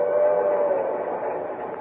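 A train rumbles along steadily with a brief tonal whine at the start, a continuous close mechanical roar with no talking.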